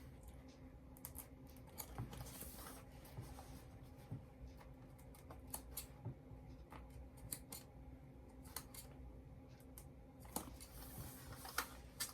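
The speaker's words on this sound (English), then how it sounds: "when you get to the corner, you're going to put your little snips in there" Small snips cut into the corner of bag fabric, giving a quiet run of faint, irregular clicks and snips that repeat through a soft, steady room background.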